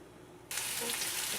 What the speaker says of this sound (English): start frying up some of this bacon